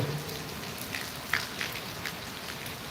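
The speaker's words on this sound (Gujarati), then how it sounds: "એક ધારો વરસાદ ચાલુ છે" Heavy downpour in Gondal patters continuously on surfaces, a dense even hiss with scattered louder drops, no voices.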